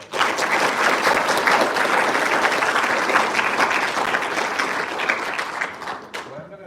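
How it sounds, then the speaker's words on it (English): A room full of people applauds both speakers after a school debate, steady dense clapping for about six seconds that fades at the end with a brief voice. "Can we please offer a round of applause to both speakers?"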